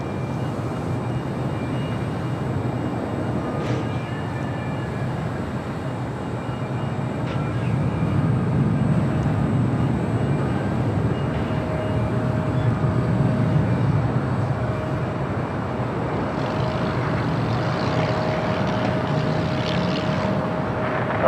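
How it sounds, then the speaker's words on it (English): A FedEx Boeing 767 arrives at LAX, a broad roar that swells from midway and holds on, with faint whining tones over a constant airport rumble. "All right, we got that FedEx 767 up next for arrival."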